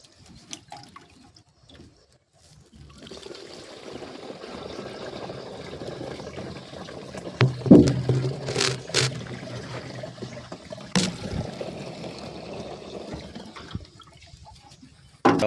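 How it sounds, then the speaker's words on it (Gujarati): Water being filled into the tank of a pesticide sprayer pump on a cotton farm: a steady low trickling and pouring, with louder splashy surges midway and a few sharp knocks. "પંપ ભરી નાખવાનો, પાણી લેવાનું ડબ્બામાં."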